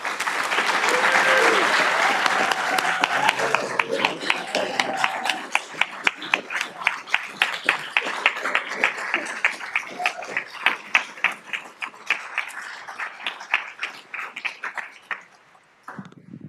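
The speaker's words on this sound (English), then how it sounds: "One more round of applause." An audience at an annual medical school lecture breaks into applause, a dense crowd of clapping that thins into distinct claps and fades out, with a brief voice near the end.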